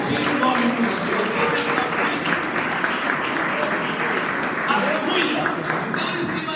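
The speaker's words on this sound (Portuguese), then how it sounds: "Pode aplaudir em nome do Senhor." Sustained applause fills a large, reverberant church, steady and dense throughout with a murmur of voices mixed in.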